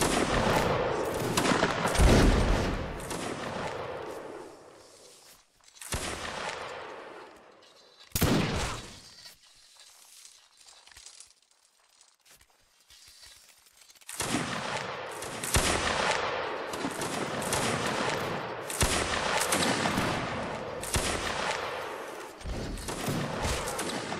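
Volleys of musket fire crackle and boom in a Mount & Blade Napoleonic Wars battle, loud bursts of ragged massed shots separated by brief lulls, with a spoken voice faintly mixed in.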